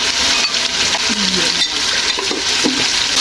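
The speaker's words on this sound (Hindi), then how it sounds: "थोड़ा सा भूनते हैं इसको मसाले को।" Spices of chili and turmeric frying with mutton trotters in a pot for restaurant-style paya, a loud dense sizzle with stirring scrapes and a few metallic spoon clinks against the pot.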